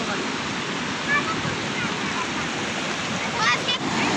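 The Hiranyakeshi river flows brim-full at Ramtirth waterfall near Ajara, Kolhapur, with a steady, fairly soft rush of water throughout and a few faint high chirps over it.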